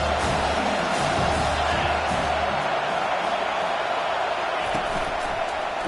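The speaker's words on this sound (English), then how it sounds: "This crowd knows when to bring it." A large football stadium crowd roars steadily through a game, a dense wall of cheering with a low rumble early on, loud and continuous throughout.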